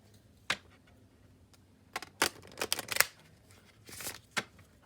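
A small tarot deck shuffled down on a table, giving close, crisp bursts of riffling and soft card slaps in scattered clusters, quiet between them.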